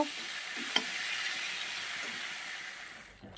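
Spinach curry frying in a wok makes a steady, close sizzling hiss, broken by a brief stirring clink.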